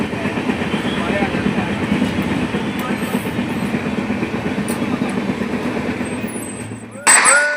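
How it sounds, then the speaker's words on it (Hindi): A train bound for Jaipur rolls along with a loud, continuous rumble and rhythmic clatter of wheels on track, fading slightly before a sudden louder burst near the end. "उसके बाद ट्रेन पकड़ के हमारी सवारी निकल जाती है जयपुर के लिए"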